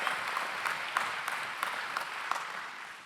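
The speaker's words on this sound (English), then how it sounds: "Clap for that, yes, for sure." Steady audience applause at a Greater Cleveland Sports Hall of Fame induction ceremony, a dense wash of many hands clapping at moderate volume, with a few sharper claps standing out now and then.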